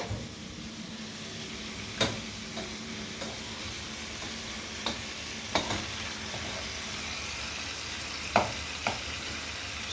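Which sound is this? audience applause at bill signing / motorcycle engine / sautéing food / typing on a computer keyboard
sautéing food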